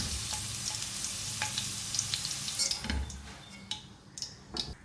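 Potatoes fry in hot oil for Punjabi dhaba-style dum aloo, giving a steady, fairly loud crackling sizzle throughout with a few sharp clicks and a spoon-scrape thud near the middle.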